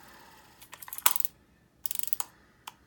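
Quick bursts of dry mechanical clicking from a revolver cylinder being spun, in two short runs with a few isolated clicks, close up and quiet.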